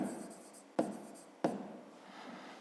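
Pen writing in a notebook during a fifth-grade math exercise, a soft continuous scratching with two sharp taps as the pen touches down, close and quiet with no talking.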